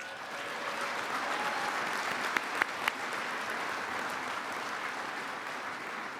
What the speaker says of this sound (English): let's give a big round of applause for your 2025 National Football Foundation College Football Hall of Fame class